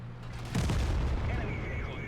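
A tank cannon shot in the World of Tanks video game, fired from behind into a medium tank: a single heavy boom that rings out and decays over a sustained low rumble, with steady game engine drone beneath.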